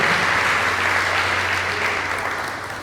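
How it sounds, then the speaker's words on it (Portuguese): Congregation applauding at a church service, a dense continuous wash of many hands clapping that holds steady and then tapers slightly at the end, with no talk over it. "Você pode dar uma linda salva de palmas ao Senhor"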